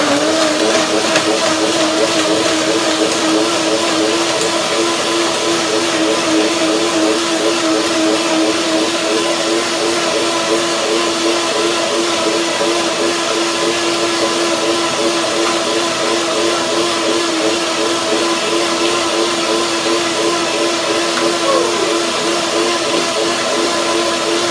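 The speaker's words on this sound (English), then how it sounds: "This is only the first blending" A blender whirs steadily as it blends sesame seeds and water for tahini, a loud continuous motor drone with a churning, pulsing texture that holds unchanged for the whole stretch, with no voices.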